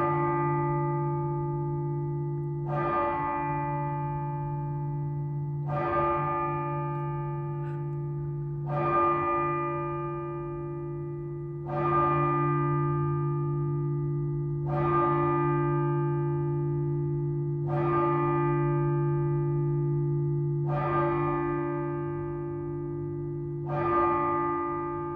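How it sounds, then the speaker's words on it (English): Big bells toll in a slow, steady rhythm, about every three seconds, each strike leaving a rich humming overtone that rings on continuously. "The ringing overtone is really prominent in person."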